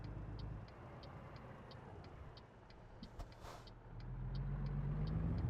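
A truck engine in American Truck Simulator accelerates in 4th gear: a quiet low drone dips, then swells and rises toward the end, while a regular ticking repeats steadily over it.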